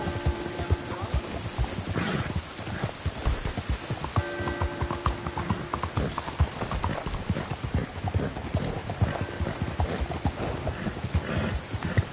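Steady clip-clop of horse hooves trotting at a quick, even rhythm in the video game Red Dead Redemption 2, close and continuous, with faint background tones and no talking.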